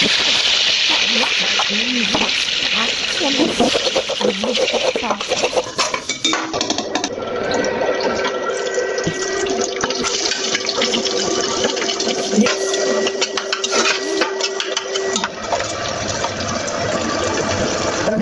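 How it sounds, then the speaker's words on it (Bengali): Onions, green chillies and vegetables fry in oil in a pan for Chinese-style fried rice, a steady loud sizzle running throughout with scraping and stirring clatter over it. "এখানে তেলের সাথে পেঁয়াজ, কাঁচামরিচ আর কিছু ভেজিটেবল ছিল যেগুলো আমি একটার পর একটা দিয়ে নিতেছিলাম"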